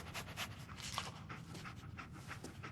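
Dogmeat, the dog companion in the video game Fallout 4, pants rapidly and rhythmically up close, a steady run of quick breathy huffs with no speech over it.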